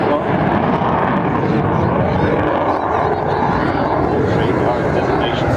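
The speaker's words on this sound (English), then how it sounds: "Tornado, variable geography, all weather NATO combat aircraft." A Panavia Tornado ADV air-defence combat jet flying at an air show makes a loud, continuous roar that fills the whole clip, with a commentator talking over the public address.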